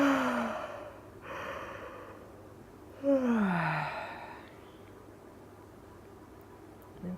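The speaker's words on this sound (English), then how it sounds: "opening the mouth really wide and doing a lovely big yawn" Two big, wide-mouthed yawns during a yoga class, each a long breathy exhale that slides downward in pitch before fading into quiet room tone.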